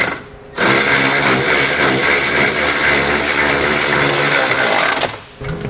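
A power tool driving an 18mm socket tightens bolts on a base plate fitted to a 2020 Jeep Wrangler, whirring with a steady, loud rattle for about four and a half seconds before it stops.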